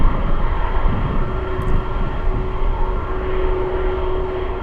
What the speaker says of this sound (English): Air Zeta 747 just stopping here for fuel.